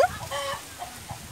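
Chickens cluck around a family home in rural Brazil, a few short clucks at close range with soft outdoor background noise and no talking.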